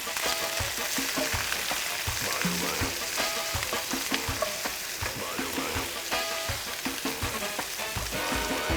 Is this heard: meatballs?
yes